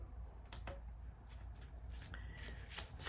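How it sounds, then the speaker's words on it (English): A deck of oracle cards is shuffled by hand in a few quick riffling bursts against a soft, steady room background. "Shuffle the cards really well."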